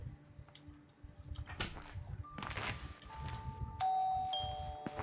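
A doorbell chimes in a home, with sustained ding-dong tones in the latter half over footsteps and faint household movement.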